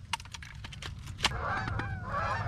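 A line of geese flying over cut corn on a snowy, windy day honk in a dense overlapping chorus, growing fuller and continuous as the flock passes, with sharp clicks early on.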